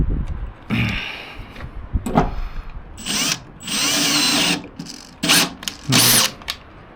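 Power drill driving a socket on a Scania 143H V8 truck during reassembly, whirring in several short and longer bursts with pauses between, close and loud, with no talk.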